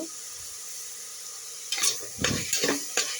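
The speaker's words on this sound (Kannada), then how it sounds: "ನೋಡಿ ಇದಿಷ್ಟು ಸ್ವಲ್ಪ ಫ್ರೈ ಆಗಿ ಬಿಡೋಣ" Green chilies and coriander leaves fry in oil in a pan. A steady hiss runs throughout, with a few louder scraping stirs near the end, close and unaccompanied by speech.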